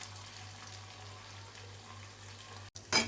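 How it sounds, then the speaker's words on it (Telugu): Small fish fry slowly over low heat with onions, chillies, ginger and garlic, giving a soft, steady sizzle under a low hum, broken near the end by a brief gap and a louder scrape. "నిదానంగా సిమ్లో పెట్టుకొని ఇలా ఫ్రై చేసుకోవాలి"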